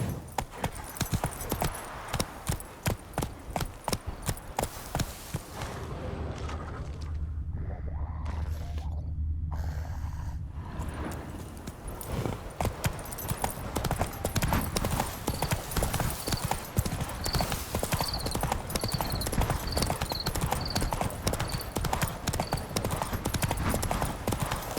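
Roach the horse gallops through The Witcher 3, hooves clip-clopping in a fast steady rhythm that drops to a softer stretch in the middle before picking up loud and close again, with brief game sounds mixed in.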